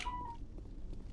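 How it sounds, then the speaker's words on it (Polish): A short electronic beep from a phone in the game Mass Effect Legendary Edition, a single steady tone at the start, followed by quiet background noise. "Telefon mi pika."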